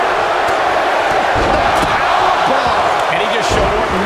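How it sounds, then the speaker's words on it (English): A wrestling arena crowd in WWE 2K24 roars loudly and steadily, a dense wall of cheering and chanting with rhythmic swells and thumps throughout, heard under a commentator's voice. "Listen to this crowd count the next one in."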